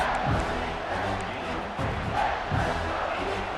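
A stadium crowd in a college football video game roars continuously and loudly, a dense wall of cheering and shouting with rhythmic swells. The game pits Clemson Tigers against Georgia Bulldogs.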